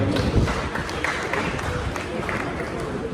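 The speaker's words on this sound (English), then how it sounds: "Let's clap for him once again" Applause from a seated audience at a cooperative dinner held in the Kpone Paramountcy, a dense, steady wash of clapping across the whole stretch with no pauses.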